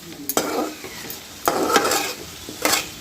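Masala prawns frying in a kadai, three gentle stirring strokes with spatula scrapes over a steady close sizzle.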